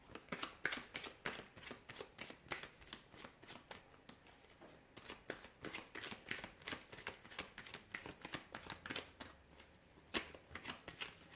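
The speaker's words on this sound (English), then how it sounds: "I will be shuffling the cards and we'll see what messages they reveal." Tarot cards riffle and slap in quick, repeated bursts, a crisp close-up shuffling rhythm with no talking.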